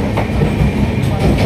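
A moving passenger train heard from inside a carriage, a loud continuous low rumble with steady rolling rail noise throughout the short stretch.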